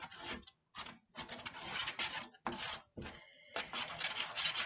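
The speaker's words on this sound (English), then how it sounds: "And I'm going to mix it. My glue and my shaving cream." Spoon stirring a mixture of glue and shaving cream in a bowl for a cloud craft, rhythmic scraping and squishing strokes up close, repeated in short bursts with brief pauses.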